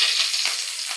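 Chillies drop into hot oil with mustard seeds for a homestyle okra curry, setting off a brief, bright crackling sizzle up close, with no talking.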